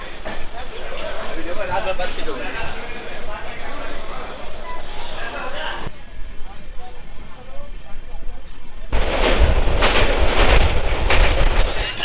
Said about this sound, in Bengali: 1 মিনিট লেটে আমাদের অমৃত ভারত 22587 ছেড়ে দিল শিয়ালদা স্টেশনের 14 নম্বর প্ল্যাটফর্ম থেকে।